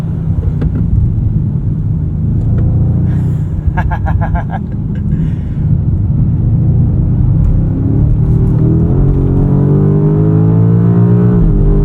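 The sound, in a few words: BMW M5 driven hard on a race track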